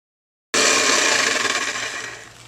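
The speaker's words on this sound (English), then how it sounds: "I can cut that on the saw. The saw's a little loud" A power saw cuts a prop weapon shape from a workpiece, starting abruptly after a short silence and running loud and steady with a dense whine, tapering slightly at the end, with no talking.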